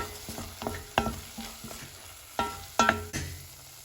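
A spoon stirs brinjal foogath with dry grated coconut in a pan, giving irregular scraping knocks and clatters over a soft background sizzle, close and fairly quiet.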